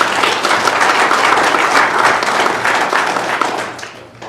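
A city council meeting audience bursts into steady, dense applause that fills the room, then tapers off toward the end.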